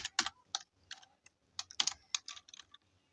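Python code being typed on a computer keyboard, a close, quiet flurry of irregular key clicks in short bursts.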